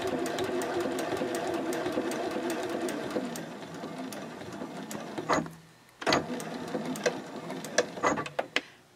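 A domestic sewing machine stitches a fabric composition notebook cover in a steady, fast mechanical whir. It stops briefly a few times, with clicks and short pauses near the end as the stitching is backstitched.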